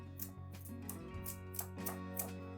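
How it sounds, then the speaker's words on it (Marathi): A knife cutting carrots for carrot halwa, giving a run of about six crisp, evenly spaced chops close up, with a low steady hum underneath and no talking. "हे पहा, चाकूने देखील हे पटकन असे कट होतात"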